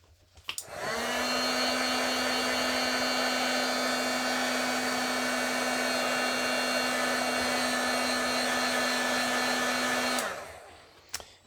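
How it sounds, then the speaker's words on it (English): A handheld heat tool switches on and blows a steady, loud whirring hiss for about ten seconds to set freshly stamped ink, then cuts off, with no talking. "let's go ahead and heat set that a little bit"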